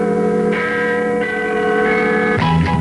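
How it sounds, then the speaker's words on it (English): A large watch strikes a chime during a 1967 Radio London broadcast, a steady sustained bell-like tone with several pitch changes, loud and alone for about three seconds. "That's the sound of my watch striking"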